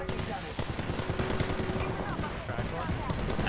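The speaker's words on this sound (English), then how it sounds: "I'm getting shot at." Rapid, dense bursts of gunfire in a first-person shooter game, rattling continuously at close range under brief talk from the player being fired upon.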